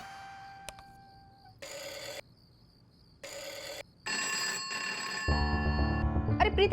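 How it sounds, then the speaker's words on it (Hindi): A telephone rings in repeated electronic bursts with short silences between, then a louder tone and some music-like sounds take over at the end. "फोन तो उठा।"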